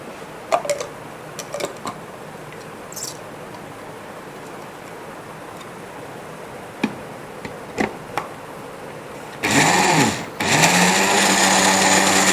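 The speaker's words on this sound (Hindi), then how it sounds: "इसके बाद मैं अब ये ब्लेंडर जार की मदद से इसको फेंटूंगा" Quiet taps and clicks, then a blender motor roars to life near the end, whipping cream for chocolate ice cream, running loud and steady for the final few seconds.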